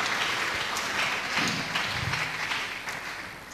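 A church congregation applauds in a steady, dense patter of clapping that fills the space, with a brief low voice murmuring under it midway, sustained without a break to the end.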